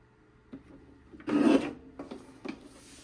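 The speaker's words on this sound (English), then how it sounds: "We're going to place them horizontally into the trimmer, stacked together, and we'll cut at 4 and 2." A paper trimmer slices through two stacked paper strips in one short, rasping cutting stroke, close and fairly quiet, with a few light clicks of handling before and after.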